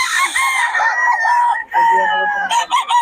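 Roosters crowing loudly at close range, with two long drawn-out crows and a shorter call breaking in at the end, amid fighting-cock chickens.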